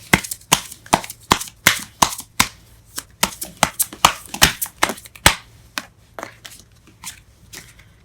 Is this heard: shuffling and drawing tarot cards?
yes